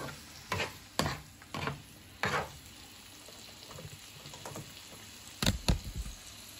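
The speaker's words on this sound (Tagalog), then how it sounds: "Then, saute all the rest of the ingredients." Ingredients for sweet and sour fish fillet sautéed in a pan with oil, giving a low sizzle broken by several distinct bursts of stirring and scraping, fairly quiet and close, with no talk.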